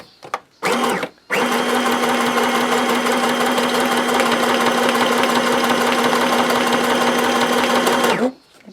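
A sewing machine stitches a medium zigzag on tiered pockets, starting with two short bursts and then running in a loud, steady, close mechanical whir for about seven seconds before stopping.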